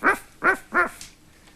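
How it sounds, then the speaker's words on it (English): Three short, evenly spaced dog barks ring out close and clear, followed by a faint trailing yip, on a 1987 children's television programme. "Did you guess the dog?"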